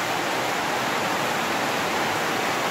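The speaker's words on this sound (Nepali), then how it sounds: "अब गाह्रो पऱ्यो पानी बब्बाल ठुलो पऱ्यो" Heavy rain pouring down outdoors during a ride to Gundu, a dense, continuous hiss of rainfall, steady and fairly loud throughout, with no voices.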